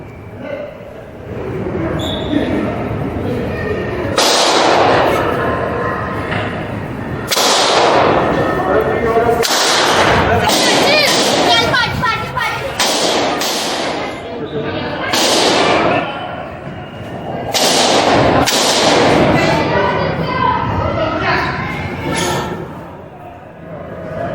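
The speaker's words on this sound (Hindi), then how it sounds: "किस तरह से रोहिणी की कोर्ट में गोलियां चली हैं" Sharp bursts of gunfire inside Delhi's Rohini court during a shootout, several loud cracks spread across the recording amid commotion and shouting voices, with a narrator speaking over parts of it.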